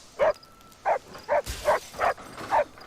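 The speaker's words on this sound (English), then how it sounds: "Hey, Walt, you gotta keep that dog quiet." A dog barks on the TV show Lost: seven sharp, evenly spaced barks at close range, loud and steady, with a brief rustle midway and no speech.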